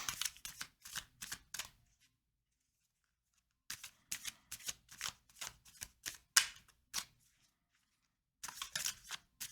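Crisp bursts of tarot cards being shuffled, in three separate rounds with a short pause between them. Close and fairly loud, with no voices.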